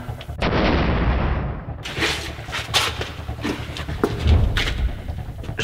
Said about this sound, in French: C'est quoi ces explosions?